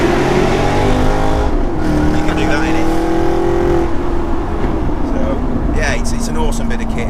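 Maserati Gran Turismo S with a cross-plane V8 and loud exhaust, engine revving and rising in pitch, then settling, heard close up with the car's drone steady throughout and possible talk underneath.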